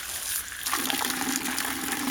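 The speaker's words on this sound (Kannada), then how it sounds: "ಹಂಗೆ ಸ್ವಲ್ಪ ಮುಖ ತೊಳ್ಕೊಳ ಅಂದ್ಬಿಟ್ಟು ಮುಖ ತೊಳ್ಕೊತಾ ಇದ್ದೀನಿ." Borewell water gushing from a motor-fed outlet in a village while someone washes their face, a steady close splashing stream that swells louder partway through, with no talking.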